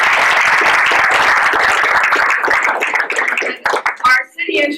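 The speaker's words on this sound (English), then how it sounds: "Could you give her a round of applause?" A crowd at a college event announcing a new NCAA Division III men's ice hockey program gives a round of applause, loud and dense at first, then thinning to scattered claps before a voice begins speaking.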